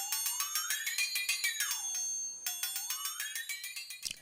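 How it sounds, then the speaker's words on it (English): Flexitone percussion, a bright bell-like ringing whose pitch swoops up and bends back down as the handle is squeezed, played as a rapid shimmering tremolo in two phrases with a short gap between them, loud and alone. "He used the flexitone."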